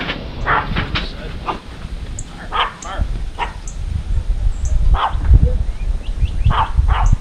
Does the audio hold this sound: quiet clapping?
no